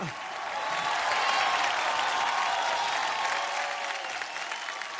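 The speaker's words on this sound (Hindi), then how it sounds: "जोरदार तालियां for अभी एंड करण लूथरा।" Loud, sustained applause from a studio audience at a celebration show, a dense wash of clapping that swells and holds steady for several seconds without any talk.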